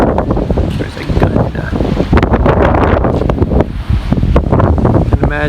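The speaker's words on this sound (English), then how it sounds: "Hopefully it wasn't quite this windy." Strong wind on the deck of a World War II destroyer in Galveston, Texas, buffets the microphone with loud, continuous low rumbling and gusty roaring, drowning out any other detail.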